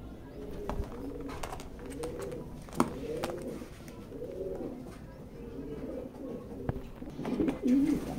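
A big, short-tailed male grizzle racing pigeon in a loft coos in soft, repeated rolling bursts, close and fairly quiet, with only faint talk in the background.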